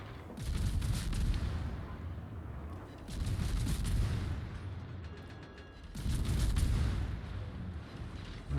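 Naval gunfire from a Minotaur tier 10 British light cruiser in World of Warships, three heavy rumbling salvos a few seconds apart, each booming loudly then fading with mechanical clatter between, no speech.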